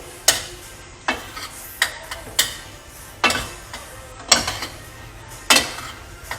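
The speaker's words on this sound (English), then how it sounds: "So I'm mixing my rice in." A spoon stirs cooked rice into a stuffing mixture for Mexican stuffed peppers, giving about ten distinct clinks and scrapes against the bowl at an uneven pace, up close with no talking.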